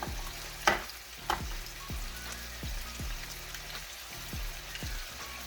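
Three eggs frying in butter in a pan, a steady close sizzle and crackle with a few sharper pops and spits, no talking.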